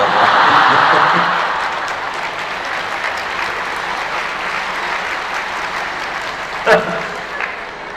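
Audience at a Maulana Tariq Jameel talk at Punjab University breaks into clapping, loudest at first, then a lower sustained patter with a sharp knock near the end.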